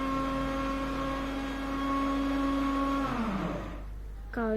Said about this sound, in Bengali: ব্লেন্ডার করছে এখন। আপনারা কিছুক্ষণ শুনেন না